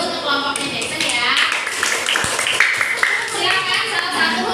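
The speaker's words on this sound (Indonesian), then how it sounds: "kita beri tepuk tangan dulu untuk kelompoknya Jackson ya" A junior high classroom claps for a student group, with continuous scattered applause running under chatter and voices throughout.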